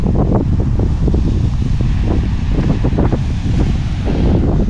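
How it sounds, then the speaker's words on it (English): Strong wind buffets the microphone in a steady roar over crashing ocean waves on a rocky, sandless Maui shoreline, with rhythmic surges of surf breaking nearby throughout and no talking. "the wind is a little bit mental right now"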